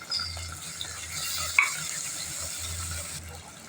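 Small onions and sliced onion sautéing in a pan for a village-style chana dal dumpling curry, a steady low sizzle with occasional stirring scrapes and a brief clink near the middle.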